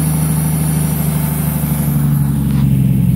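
A car engine idles steadily and loudly at close range, a constant low hum with a rhythmic pulse, with a vacuum hose about to be pulled off so cleaner can be poured in while hunting an exhaust leak.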